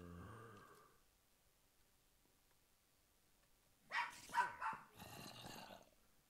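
Dog barking in the Minecraft video game, a quick burst of three or four yips close by after a quiet stretch, trailed by a rougher, noisier yap at the end.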